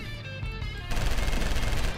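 Rapid automatic gunfire in the LA Cops video game, a dense burst of shots tearing into drug tables, loud and continuous after a brief quieter lead-in.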